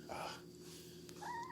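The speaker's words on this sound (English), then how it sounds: "Come on, this cat." A cat gives a short meow near the end, a clear rising cry following a quiet breathy stretch over a steady low hum.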